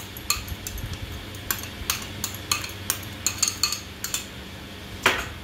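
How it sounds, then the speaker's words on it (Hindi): A spoon mixing a chopped-vegetable filling in a bowl, a run of sharp, irregular metallic clinks and scrapes, close and distinct, with a louder knock near the end and no talk. "ये वाली चीज हम अच्छे से मिक्स कर लेंगे।"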